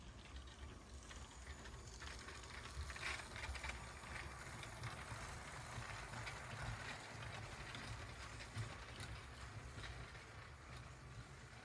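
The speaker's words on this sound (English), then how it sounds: "let's fire up the Maersk train and see how this track" A small LEGO toy train hums and rattles steadily along its track, a faint continuous whir with no pauses.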